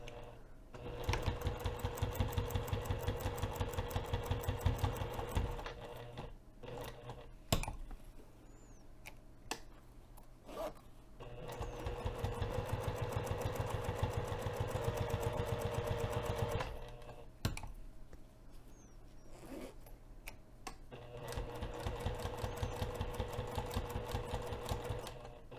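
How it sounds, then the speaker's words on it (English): A sewing machine top stitching a hinged zipper pocket at a longer stitch length, a close, steady rapid mechanical chatter running in long stretches, stopping twice for short pauses with faint clicks before starting again. "I'm going to increase my stitch length for this top stitching on my machine."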